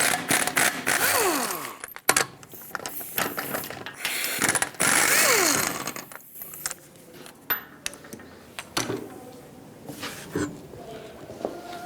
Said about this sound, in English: I'm going to start by removing the wheel, 21mm socket, take all 5 of your lug nuts off